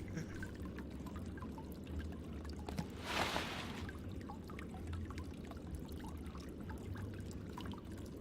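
Murky stagnant water in the Shadowgate video game, a soft continuous trickling and pouring wash with a brief louder splash midway, faint and alone.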